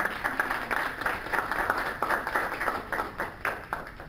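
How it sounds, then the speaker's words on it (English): Audience applause at a family support charity gala and awards evening, a moderate patter of clapping hands sustained throughout, fairly even and somewhat distant. "Give them a round of applause."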